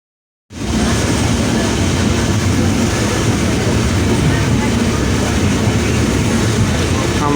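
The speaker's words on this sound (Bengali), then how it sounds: "এই ইব্রাহিমাবাদ রেল স্টেশনে ট্রেনটি থামবে এখন" A train pulling into Ibrahimabad railway station after crossing the Jamuna rail bridge, a loud, dense, continuous rumble of wheels and carriages starting abruptly and holding steady throughout.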